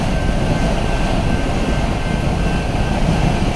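A train pulls into a station in Milan, giving a loud, steady broadband rumble and rail roar throughout with a faint high whine, and no clear talking.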